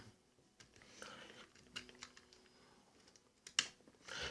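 A lock pick works the pins in a lock core with small, faint metallic clicks and scrapes at irregular intervals, close and quiet, with one sharper click near the end.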